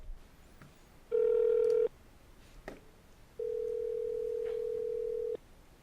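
Two electronic phone tones sound on a quiet line: a short steady beep, then a longer sustained tone lasting about two seconds.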